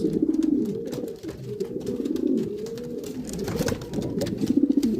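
Homing pigeons cooing while being paired in a loft, repeated low throaty rolling coos close by, rising and falling in a steady rhythm, with faint rustling and no talk.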